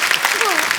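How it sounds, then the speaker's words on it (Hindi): Studio audience on a comedy talk show stage applauds three child performers in a short, steady burst of clapping, with a voice briefly speaking over it. "तीनों बच्चों के लिए जोरदार तालियां।"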